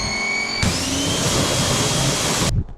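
A pressure washer rinses down an ATV, a loud steady hissing spray that starts abruptly after a whining motor hum and cuts off sharply near the end.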